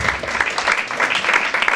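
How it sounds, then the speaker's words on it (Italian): Applause for two presenters at a national cartoon cover band gathering, a dense, steady wash of clapping from an audience that holds at an even level throughout the short stretch. "Voglio che gli rivolgiate un applauso"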